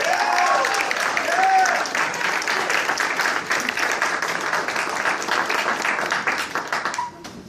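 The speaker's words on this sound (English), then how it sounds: "we want you to give her a warm round of applause" An audience at a town hall meeting applauds warmly, steady crowd clapping close and loud with a few whoops rising early on, holding for several seconds before tapering off at the end.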